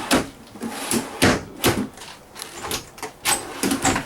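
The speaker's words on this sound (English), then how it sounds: "we're going to pull out some of the drawers and open the space here" RV kitchen drawers in a 2016 Thor Miramar 33.5 motorhome pulled open one after another, a series of close, sharp sliding thumps and clatters in an irregular rhythm with no talking.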